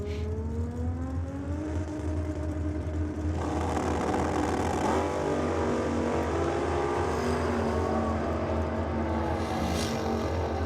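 Black altered drag car with flames making a pass at Sydney Dragway, front wheels lifted: a loud, sustained engine roar fills the whole run, its harmonics climbing sharply partway through as the car accelerates.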